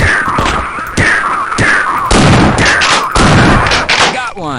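Loud, close gunfire in Half-Life 2 comes in rapid repeated bursts of sharp shots for several seconds, with a voice heard among them.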